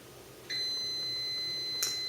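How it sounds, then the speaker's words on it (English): A Crock Pot multi-cooker timer gives one steady, high electronic beep that holds for over a second against quiet kitchen background, ending with a brief brighter blip. "There's my timer."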